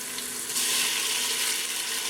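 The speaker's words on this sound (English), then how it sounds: "and our garlic in this pot. We're just going to cook it down just for a little bit." Onions, jalapenos and garlic sizzle in oil in a pot, a steady close frying hiss that swells slightly after a moment, with no talking.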